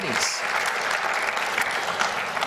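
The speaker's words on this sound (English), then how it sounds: "Give them a round of applause." Audience applause at a Western Sydney Local Health District Human Experience event, a steady sustained burst of clapping from a crowd filling the room.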